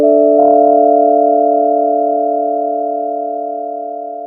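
Omnisphere synth patch of haunting keys built from layered sine waves through a basic 12 dB low-pass filter, a steady sustained chord with a brief soft attack near the start, ringing on and slowly fading, loud and alone.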